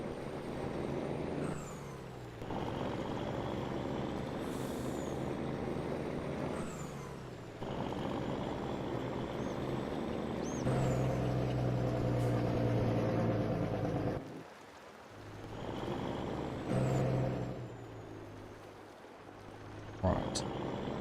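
A truck in Farm Sim 22 idles and drives with a steady low engine drone, a few sharp air brake hisses breaking through, and a voice talking now and then over it.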